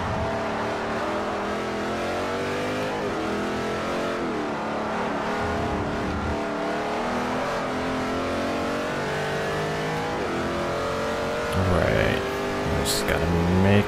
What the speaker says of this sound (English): Luckily I was able to keep the car on the track this time.